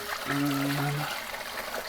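Lamb demi-glace strains through cheesecloth and a chinois in a soft, steady liquid trickle, with a brief low tone near the start over faint background noise.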